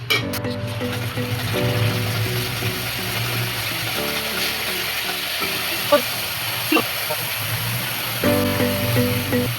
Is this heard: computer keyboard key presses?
no